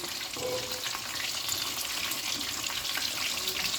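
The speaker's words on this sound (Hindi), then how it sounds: "हम डीप फ्राई कर रहे हैं।" Fish deep frying in hot oil, a steady dense sizzle and crackle running throughout at close range, with no talking.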